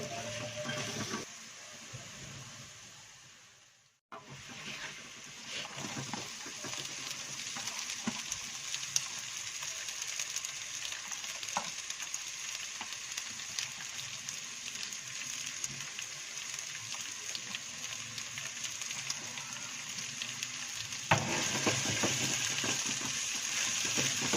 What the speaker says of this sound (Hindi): अदरक को अच्छी तरह ब्राउन कर लें और कोशिश करें कि चम्मच मुसलसल हिलाते रहें